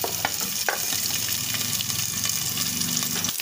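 Ginger sizzles and pops in hot oil with onion, giving a dense, steady frying hiss broken by a few sharp crackles close to the pan.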